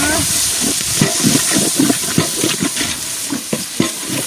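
Onions sautéing in a pan outdoors as tomatoes go in, with loud continuous frying hiss and repeated stirring scrapes and clatters throughout.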